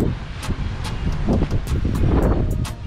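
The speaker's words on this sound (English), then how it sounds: "the wind's blowing it's blowing strong" A strong wind blows at a kitesurfing spot, roaring loud and gusty over the microphone with rushing, buffeting noise throughout.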